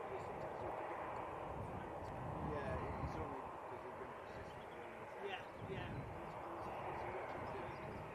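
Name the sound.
Loganair plane arriving from the Isle of Man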